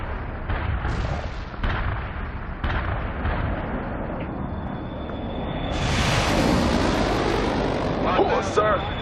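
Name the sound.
artillery strike explosions in the video game World in Conflict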